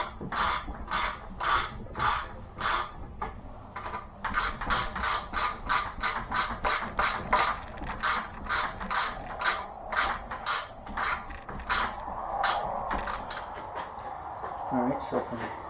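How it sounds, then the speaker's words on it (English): Ratchet gear wrench tightening bolts on a king size bed frame, rapid bursts of clicking pawl strokes in a repeated rhythm, close up, with a short pause midway. "Got a wrench, ratchet wrench, gear wrench, whatever you want to call it."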